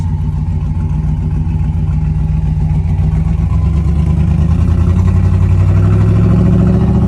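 Loud, rumbling engine and exhaust of a 1988 Monte Carlo SS droning steadily up close, pitch rising slightly as it accelerates, with no talking.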